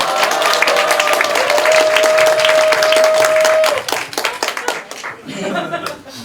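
Loud, dense applause greets a campaign head at a Korean election campaign office opening in Jungnang-gu, with a steady tone over it for a few seconds, then the clapping thins into scattered claps and light laughter.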